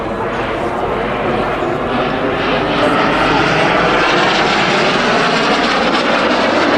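A Fouga CM 175 Zéphyr jet trainer at the Avignon air show, a steady, loud engine roar close by, with a voice talking faintly beneath it.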